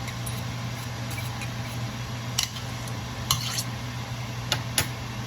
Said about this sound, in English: So I'm going to stir it around as good as I can.